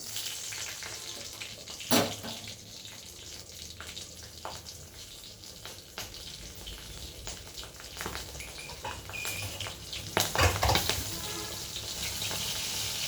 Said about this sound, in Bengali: কড়াইয়ের তেলটা ভালো গরম হলে আমি দিয়ে দিচ্ছি কালো জিরে আর দেখো কতগুলো কাঁচা লঙ্কা